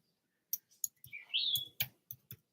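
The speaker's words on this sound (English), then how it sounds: "It's the bird that you hear now is a chickadee." A chickadee calls in the background, a short whistled note between scattered clicks and taps, fairly faint and alone, with no talking.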